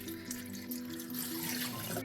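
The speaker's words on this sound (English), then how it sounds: "I'm using a siphon to transfer the wine slowly and avoid introducing too much oxygen." Homemade grape wine runs steadily through a siphon into bottles, a soft continuous trickle of liquid close by with no voices.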